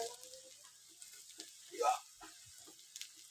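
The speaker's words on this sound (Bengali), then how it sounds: "তো এই মশলাটাকে খুব ভালো করে কষে নেব" Spice paste of turmeric, chilli powder and salt frying in a pan, a soft steady sizzle with a brief louder hiss and stir near the middle, close and fairly quiet.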